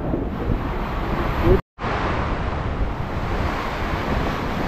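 Strong wind roars steadily, buffeting the microphone with broadband rumble and hiss, cutting out briefly partway through before resuming.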